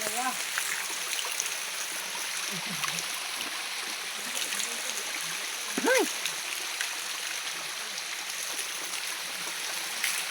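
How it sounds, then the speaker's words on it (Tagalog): Stream water flowing steadily outdoors in a rural creek, a constant close rushing wash with a few brief splashes, while a person's voice is faintly heard in the background. "Pakaganda dito yung sapa."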